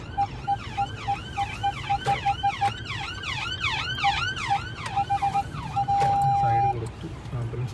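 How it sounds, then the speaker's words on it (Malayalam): An ambulance siren wails loudly and steadily on a UK road near tram tracks, its rising and falling tone repeating over traffic rumble, then briefly holding a steady pitch before resuming. "ആംബുലൻസ് വരുന്നത്."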